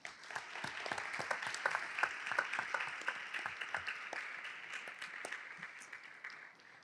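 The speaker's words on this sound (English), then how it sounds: "Join me in giving our panelists a round of applause and a warm welcome." An audience at a public coalition meeting in Cleveland applauds its panelists, a steady patter of many hands clapping that gradually tapers off.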